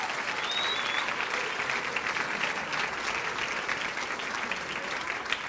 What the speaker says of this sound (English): How about a big round of applause for all of our teams and their representatives